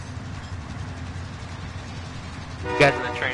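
Train horn from a train in the Call of Duty Warzone video game, a loud blast arriving near the end over steady rumbling game noise, with talk in the background.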